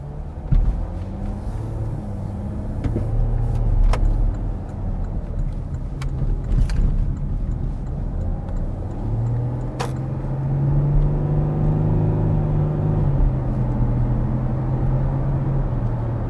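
A Porsche Cayenne Diesel cruises in regular drive mode in sixth gear at about 30 mph, its steady low engine rumble and road noise continuous and close, with occasional light interior clicks and no talking.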